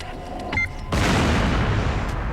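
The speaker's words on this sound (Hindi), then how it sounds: "धमाके की आवाज सुन।" A sudden loud explosion bursts from a Hindi action film climax, a sharp boom followed by a sustained roaring blast that fills the rest of the moment.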